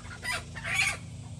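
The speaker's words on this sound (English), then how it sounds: "I'm gonna get that rooster." A rooster crows nearby, two rising, strained calls in quick succession over a low, steady background hum.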